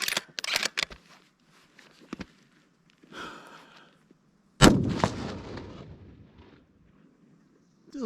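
A Ruger American .308 rifle fires a single sharp, loud shot at close range, followed by a decaying rumble, with a few clicks and handling noises before it.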